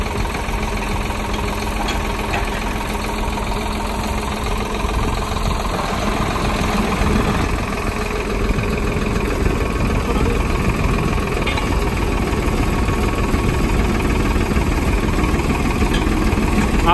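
A Farmtrac 60 tractor hitched to a 22-disc harrow idles with a steady, mid-low engine chug and slight knock, running continuously at moderate loudness throughout.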